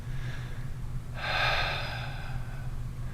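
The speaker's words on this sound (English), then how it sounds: "I'm thinking 4 seconds out with my breath and 2 seconds in" One slow, audible breath of a breathing exercise for tight hip flexors, rising softly and fading after about a second, over a low steady background hum with no talk.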